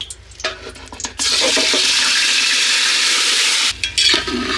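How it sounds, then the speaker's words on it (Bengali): Marinated chicken drops into hot fried-onion oil in a cooking pot, bursting into a loud, sustained sizzle that settles briefly before a fresh surge of frying, no voices. "ডেকসিতে আমি বেরেস্তার ভাজার তেলটা দিয়ে দিয়েছি এবার দিয়ে দিচ্ছি মেখে রাখা মাংস"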